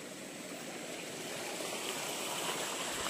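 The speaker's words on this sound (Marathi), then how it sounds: "हे बघा पाणी कसं वाहतंय. हे डोंगरातनं आलेलं पाणी." Water coming down from the hills flows through a dense forest near a village in the rainy season. The rushing stream makes a constant, even, broadband wash that stays moderately quiet and is heard alone.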